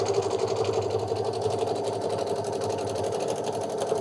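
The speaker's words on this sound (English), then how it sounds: "So it's a placement stitch that we are stitching first." An embroidery machine stitches a placement outline of a bunny for a Kimberbell mug rug, running as a steady, close, continuous mechanical whir for the whole stretch.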